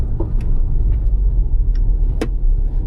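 A Land Rover LR4 rolls along during a parking brake test, its engine and road noise forming a steady low rumble, with a few brief clicks and ticks rising above it.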